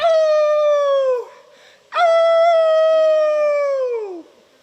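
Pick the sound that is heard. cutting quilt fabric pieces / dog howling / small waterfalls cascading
dog howling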